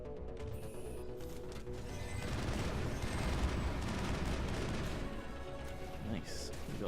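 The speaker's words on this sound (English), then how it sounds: "I'm going to switch back to the assault rifle." Sustained assault rifle fire in the video game Mass Effect, a dense rattle of rapid shots with booming impacts, continuous for several seconds, under game ambience and faint voices.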